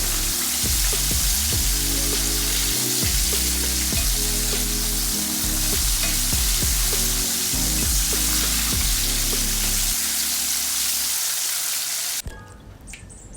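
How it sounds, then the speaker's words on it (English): Chicken wings deep frying in hot oil, a steady dense sizzle and crackle that runs loud and unbroken, then drops away abruptly near the end. "Wings really don't take that long to fry"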